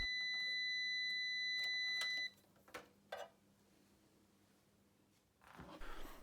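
A multimeter continuity tester beeps steadily and fairly faint for about two seconds while probing the circuitry of a Tandy 1000 SL/2 computer with a hard card fitted, then cuts off, followed by a few soft clicks and handling noise.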